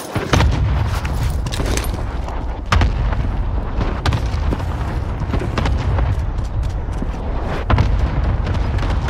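Cluster airstrike explosions in Call of Duty Warzone on Rebirth Island pound in a dense barrage, with heavy booms and sharp blasts landing one after another, loud and continuous.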